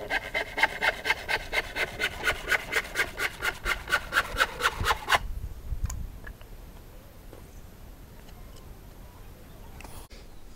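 A hand saw cuts a 2-inch thick piece of treated timber in a brisk, even rhythm of close strokes for about five seconds, then stops, leaving quiet room noise with a few faint knocks.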